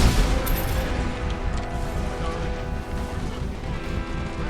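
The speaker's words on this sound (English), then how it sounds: "Too many rockets!" Rocket explosions and gunfire fill a video game battle with a dense, loud, continuous roar of blasts and rattling shots, heavy rumbling booms dominating throughout.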